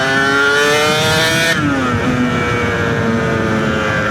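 A Yamaha TZR 250R motorcycle engine revs hard while being ridden. It is loud and close, with a rising whine that drops in pitch midway through as it shifts up a gear.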